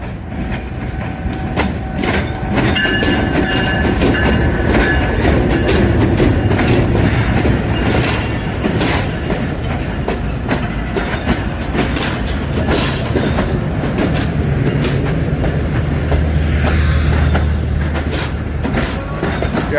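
Awam Express passenger train hauled by locomotive 4562 GU20 rolls past close by, loud and continuous with rhythmic clickety-clack of wheels over rail joints and brief squeals, no talk.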